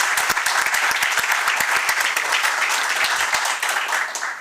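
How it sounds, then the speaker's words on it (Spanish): Audience applauding at a book launch event, a dense, steady burst of clapping from a crowd with some sharper individual claps standing out, filling the room loudly before fading slightly at the end. "Un fuerte aplauso para Fabián."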